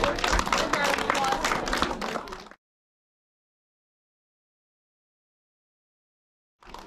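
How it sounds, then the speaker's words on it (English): A small tourist audience claps in a brisk burst for about two and a half seconds and then fades into silence, with a faint sound returning at the very end. "Please give him a big round of applause, guys."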